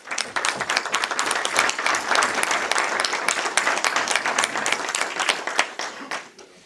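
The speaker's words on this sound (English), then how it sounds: "give him a round of applause" A room at a city council work session breaks into a round of applause, many hands clapping in a busy, steady burst that tapers off near the end.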